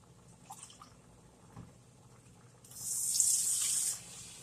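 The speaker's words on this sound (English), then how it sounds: "I'm going to drain the macaroni or the pasta shells" Cooked macaroni or pasta shells being drained, water pouring steadily into a sink for about a second, a brief splashing gush after quieter clinks.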